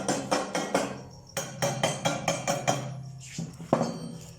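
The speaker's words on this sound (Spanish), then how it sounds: "Con el cincel vamos a golpear la escoria" A steel chisel striking and chipping slag off a fresh weld bead, a steady run of sharp metallic taps in quick groups with brief pauses, close and clear with no talk.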